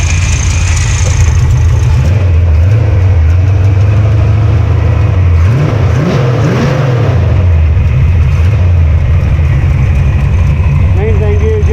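A Mopar engine idles steadily while warming up after a rocker fix, a loud, close, low rumble with a whine from the noisy power steering and a brief rise in pitch midway.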